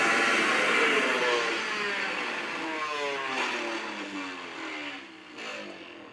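A blender motor runs continuously on its highest super-gear setting while grinding spice, a loud steady whine that shifts slightly in pitch as the load changes, with no talking.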